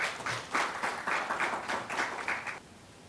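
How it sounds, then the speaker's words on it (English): A short burst of applause from an audience at an investiture ceremony, rhythmic rounds of clapping rising and falling, then fading out near the end. "Can we give her a big round of applause?"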